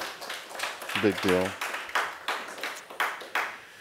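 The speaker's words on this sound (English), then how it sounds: "you can clap for that" A meeting audience gives a short, scattered round of clapping, a handful of separate claps under a speaker who keeps talking.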